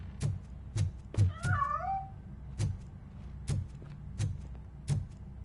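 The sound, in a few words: cat meowing and escaping, from a video game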